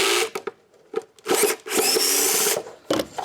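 A power drill backs screws out of the top of a Hoover cyclone dustbin unit in short bursts of high whirring, stopping and starting several times with small clicks in between, close and loud.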